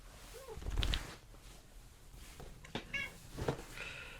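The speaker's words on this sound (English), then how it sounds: "this is my cat" A pet cat gives a short, faint meow indoors in a quiet room, followed by soft scattered rustles and light movement sounds.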